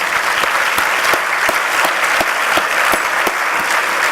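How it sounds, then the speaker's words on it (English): Dinner-hall audience applauds a round for former House members at a policy awards dinner, steady dense clapping throughout, loud and close, with no voices over it. "Please give all of them a round of applause."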